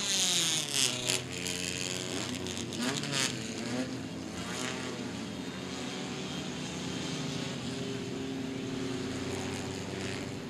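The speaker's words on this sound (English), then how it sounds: "What a field of cars gathering for the Cooley Construction 20." Race cars gathering on the oval at Winchester Speedway before a 20-lap feature, a steady broad engine rumble with shifting pitches, held at a fairly even level for the whole stretch.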